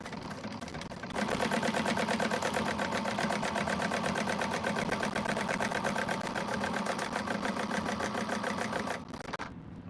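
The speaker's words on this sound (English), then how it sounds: "I'm just going to stitch both ends." Sewing machine stitching both ends of a quilted bag, a steady, rapid, close mechanical whir that starts after a second and runs continuously for about eight seconds before stopping.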